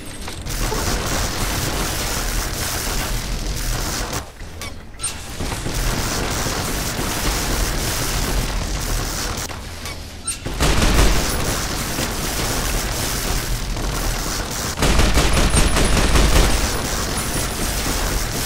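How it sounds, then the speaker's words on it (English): Arc welder energy weapon firing in Fallout: New Vegas, a dense, continuous crackling barrage that runs loud for most of the stretch, with brief dips and heavier booming bursts near the end. "Wreck this one with our arc welder."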